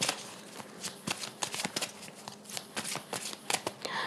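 A deck of Sai Baba oracle cards being shuffled by hand, a quick run of crisp riffling flicks and soft slaps, close and fairly quiet, with no talking.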